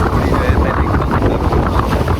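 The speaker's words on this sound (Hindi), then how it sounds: "वहाँ सच में ही इतनी तेज हवा चल रही होती है" Strong coastal wind buffets the microphone at Dhanushkodi, the land's end in South India, a loud, continuous low roar with gusting rumble and no speech.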